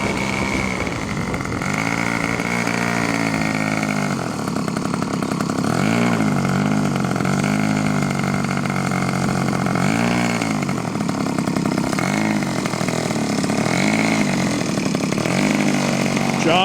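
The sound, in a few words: Aerodigm Model 206E model aircraft motor running during taxi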